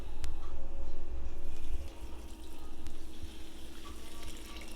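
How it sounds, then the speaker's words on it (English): Warm chicken broth pours steadily into a dressing mix with a close, continuous splashing gurgle that thins slightly partway through, with no voices. "And that's warm, so I'm just going to go ahead and pour that in."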